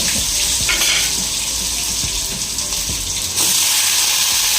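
Food frying in a pan in a home kitchen, a steady loud sizzle with crackling and some watery stirring sounds, heard alone.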